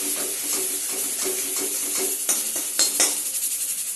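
Spice paste for an egg, potato and cauliflower curry frying dry in a pan, a steady close sizzle with scraping stir strokes and a few sharp utensil clinks against the pot near the end.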